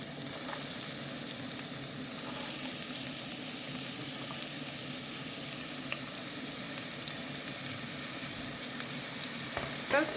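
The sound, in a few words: chopped onion frying in hot olive oil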